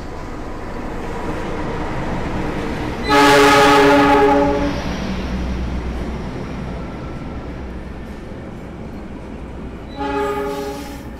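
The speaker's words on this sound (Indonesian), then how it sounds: "Yang baru saja masuk di jalur 6 itu adalah kereta api Malabar, relasi dari stasiun Bandung tujuan stasiun Malang" Malabar passenger train arriving on track 6 at a station: a rumbling approach with a loud, sustained horn blast, then steady rolling wheel noise, and a second shorter horn near the end.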